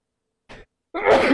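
One person sneezes: a short breathy intake, a brief pause, then a loud, sharp burst of sneeze close to the listener, with nothing else around it.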